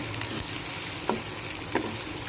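Garlic ginger paste fries in a pan for a spiced taro dish, giving a steady soft sizzle with a couple of faint stirring scrapes, close and without talk.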